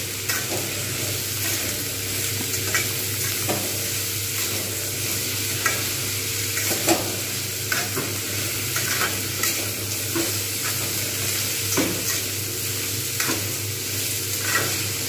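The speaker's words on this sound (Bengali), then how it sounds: "এবার আমি কিন্তু এটাকে ভালোভাবে এপিট ওপিট করে নেড়ে নেবো এইভাবে" Pumpkin pieces sizzle steadily in plenty of hot oil with chilli and five-spice seasoning while a spatula stirs and turns them over, scraping clicks recurring in a loose rhythm through a continuous close frying hiss.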